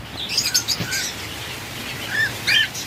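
Lovebirds and conures in a bird shop give short, bright chirps and tweets in scattered bursts, with a cluster near the start and another toward the end, over a low, steady room hum.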